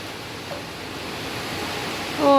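Heavy autumn rain pours down in a thunderstorm over Odesa as a steady, dense broadband hiss that holds throughout. A brief tonal sound rises near the end.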